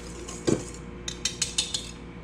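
Dry banana nut muffin ingredients, including iodized salt, are stirred in a bowl with a utensil, giving a few light clinks and scrapes against the side, close and fairly quiet.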